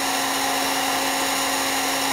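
Hot air blows steadily onto player piano lead tubes, a constant loud whirring hiss with a fixed motor hum and no variation.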